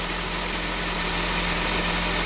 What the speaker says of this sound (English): See, now the engine is running, but in high RPM.